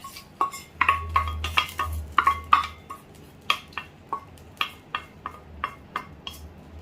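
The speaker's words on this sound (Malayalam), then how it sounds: "എല്ലാം കൂടി കറിയിലേക്ക് ഒന്ന് ഇളക്കി യോജിപ്പിച്ച് കൊടുക്കുകയാണ്" A spoon repeatedly scrapes and clinks against a metal pot of Kerala-style chicken and potato curry in an uneven rhythm, close by, with no voices.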